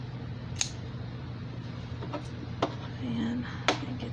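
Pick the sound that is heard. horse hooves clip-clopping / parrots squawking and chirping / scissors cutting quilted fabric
scissors cutting quilted fabric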